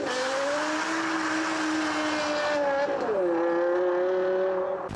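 A BMW M5 with a V10 engine revs up in a high, sustained wail that climbs, dips sharply and then holds a slightly lower pitch, loud and close throughout.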